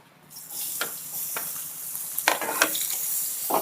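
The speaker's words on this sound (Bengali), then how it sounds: "তেলটা গরম হয়ে গেছে এবার আমার এই কেটে রাখা পেঁয়াজটাকে দিয়ে দিচ্ছি" Loud, continuous sizzling of chopped onion dropped into hot oil, with a few scraping stirs and clatters along the way.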